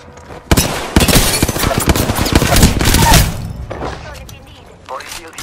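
Close, loud bursts of gunfire in a battle royale shooter, rapid overlapping shots for a few seconds that then fade into quieter game sounds, with voices under the action.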